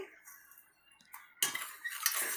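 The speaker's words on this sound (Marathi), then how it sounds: "चमच्याने फिरवून घे" A spoon clinks and scrapes against a glass while stirring lemon sherbet, with light metallic taps followed by a louder burst of clattering stirring near the end, close up and with no talking.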